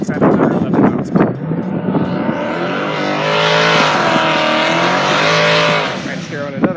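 A Ford Mustang drag races at Rocky Mountain Speedway during a midnight drag event, its engine roaring loudly and steadily as it accelerates down the track, with voices shouting over the noise.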